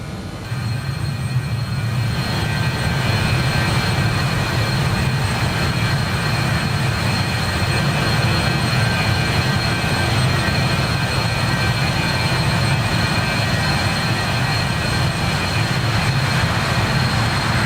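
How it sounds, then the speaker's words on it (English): Jet engines of an RJ Professional airliner heard from inside the cockpit in Microsoft Flight Simulator 2020, a steady mellow low drone with a faint high whine, rising in at the start and then holding constant. "these engines have such a mellow sound, at least from the inside"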